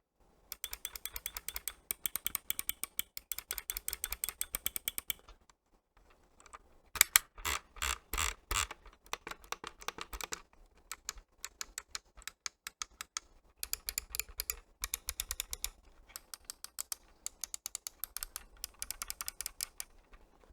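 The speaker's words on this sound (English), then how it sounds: "So these are hybrid optical switches which are super tactile, and I think you need to listen to the clicks." Logitech G502 X Plus gaming mouse with hybrid optical switches, clicked in rapid, even runs of crisp, tactile ticks, close and dry, separated by short silent pauses.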